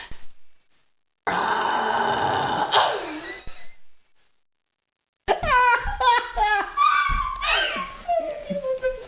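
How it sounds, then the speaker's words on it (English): A person burps while laughing, drawn-out guttural belches and grunts followed by a run of bursty laughter, loud and close with short silences between. "Laugh and burp at the same time."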